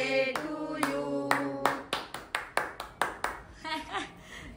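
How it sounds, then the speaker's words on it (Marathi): Sharp hand claps at a family birthday celebration at home, a run of about eight distinct claps following the tail of sung voices, close and fairly loud. "कशा वाजवते बा टाळ्या?"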